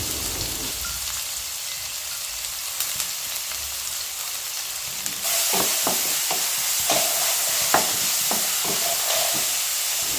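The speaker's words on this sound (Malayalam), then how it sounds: "ഇത് ഉള്ളി ഒന്ന് നല്ലോണം ഒന്ന് വഴറ്റിയെടുക്കാം" Sliced onions sautéing in hot oil for chicken biryani, a steady close sizzle with a run of sharper stirring knocks and spatters in the second half.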